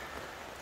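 Rain falls steadily on outdoor surfaces in Lonate Ceppino, a dense even hiss of drops that fills the whole short moment with no talk over it.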